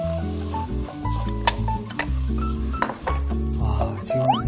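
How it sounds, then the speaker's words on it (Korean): Seaweed, beef and crushed rice being stir-fried in a pot for porridge, a close, continuous sizzle with repeated spatula scrapes and clinks against the pot, no voices. "이렇게 해서 볶아주세요"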